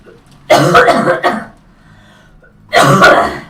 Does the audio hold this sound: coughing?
yes